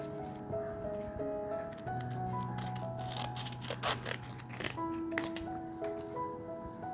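Scissors snipping through bubble wrap and sandpaper for a handmade sensory book, a run of crisp crackling cuts and crinkles over quiet indoor background with sustained musical tones.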